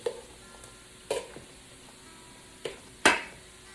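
Garlic and frozen cauliflower rice sauté in a pan with a faint steady sizzle, broken by a few sharp scraping stirs of a utensil against the pan.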